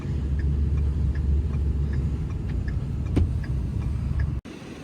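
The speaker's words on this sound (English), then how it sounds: "You hear the drive shaft slapping around." A low, steady vehicle rumble with a loose drive shaft slapping around, a regular ticking, knocking beat repeating about twice a second, then an abrupt cut near the end.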